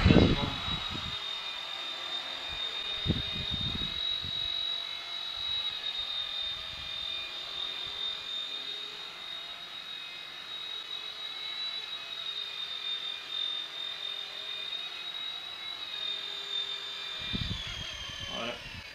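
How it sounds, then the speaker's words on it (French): A SYMA F3 toy remote-control helicopter hovers indoors with a steady, high rotor whine and buzz that holds throughout and then winds down at the end. A few short bursts of voice come near the start and the finish. "c'est un hélicoptère qui est plutôt stable"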